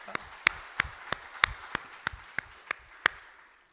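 A church congregation gives a sparse, slow round of applause, about a dozen distinct claps spaced roughly evenly, moderately near and fairly quiet, with no talking.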